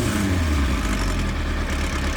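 A 1994 Kawasaki ZXR 400 motorcycle engine idles steadily after warming up, a loud, close, even rumble with no speech.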